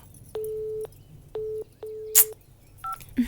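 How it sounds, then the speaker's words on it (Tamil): A telephone number is keyed in on a phone, giving four separate steady dialing tones of differing lengths, close and clear, followed by a brief higher double beep in a quiet room. "உன் ஃப்ரெண்டுக்கு கொஞ்சம் ஃபோன் பண்ணி சொல்லமா?"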